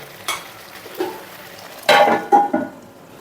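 Chicken for a restaurant-style rezala is braised and stirred in a pan, a few scattered scrapes and clinks of a spoon against metal over a faint sizzle, close and intermittent with no speech.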